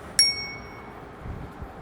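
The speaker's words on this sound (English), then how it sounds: "I added a bell." A newly added bicycle bell on a Mihogo RX2.4 ebike gives a single bright ding that rings on and fades over quiet outdoor background noise.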